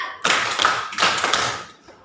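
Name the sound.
hand clapping pattern demonstrated by a teacher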